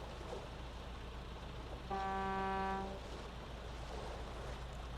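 Car horn honking in the video game Will: Follow the Light, a single steady tonal blast of about a second rising clearly above a constant low background rumble.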